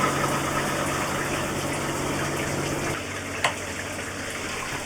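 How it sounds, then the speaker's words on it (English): Recirculating water pump in a campervan shower system runs with a steady hum and rushing water, continuous and close, dropping slightly in level partway through with a brief knock. "Okay, recirculating pump is on. I can hear it."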